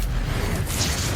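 Bombarda spell blast in Hogwarts Legacy, heard as a dense, loud burst of broadband rumble and hiss filling the whole moment with no talk over it.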